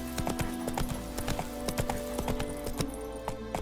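Hooves of a horse trotting in The Witcher 3, a steady clip-clop rhythm repeating throughout, close and clear over a low background of game ambience.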